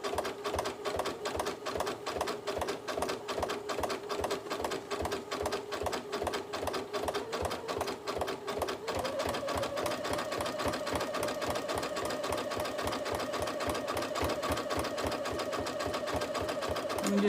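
Sewing machine stitching zigzags on a trapunto cushion, a fast rhythmic mechanical chatter running continuously and shifting slightly in pitch partway through, close and alone.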